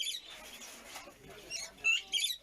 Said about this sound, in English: canaries, parakeets, and zebra finches will no longer chirp from small cages in the shadow of the Notre Dame Cathedral